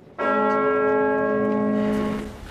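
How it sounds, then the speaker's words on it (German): A single deep church bell toll for the death of Queen Elizabeth II, struck loudly and ringing on with a long sustained hum. "Kanonenschüsse und Glockenschläge für die Queen."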